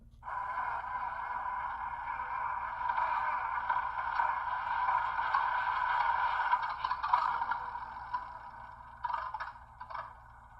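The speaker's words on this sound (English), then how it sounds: "there's also what they call a false start, or a bad starter is what it's labeled" A model locomotive sound decoder on a Galloping Goose rail car plays an engine false start, a quiet, steady mechanical cranking hum that runs for about ten seconds, then breaks into a few uneven sputters near the end.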